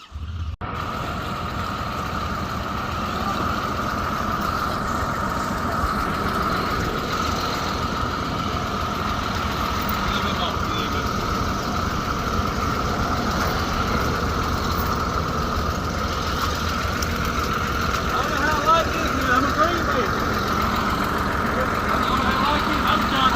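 A tractor engine idles steadily with a low, continuous rumble, loud and close for the whole stretch, with faint chirping or beeping sounds near the end.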